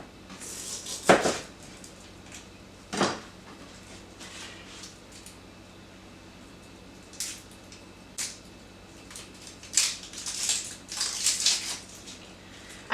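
A knife chops through one large onion in a kitchen while preparing chicken soup: a few sharp, scattered cuts at uneven intervals, with a quicker flurry near the end, close and clear against quiet surroundings.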